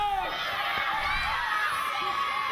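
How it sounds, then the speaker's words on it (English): A wrestling crowd reacts with a mix of shouts, whoops and whistle-like rising cries over a general murmur, loud and close, within a short burst of arena noise. "This crowd none too pleased with the ECPW Television Champion"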